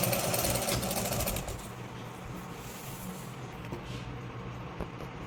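A sewing machine stitches a fall onto a saree, with a steady close mechanical whirring and rattle that eases to a quieter, softer run partway through.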